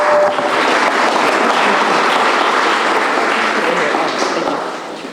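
Dense, steady audience applause fills the room at close range throughout, tapering slightly near the end, at a community presentation event.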